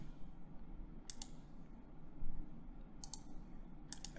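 Sharp, close computer mouse clicks come in quick pairs and triplets at three moments against a quiet room hum, with no talking.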